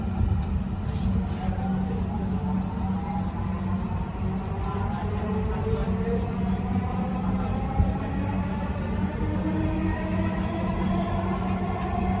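A Dhaka Metro Rail train bound for Uttara North runs with a constant low rumble and rising whine of motors, steady throughout, with faint speech in the background.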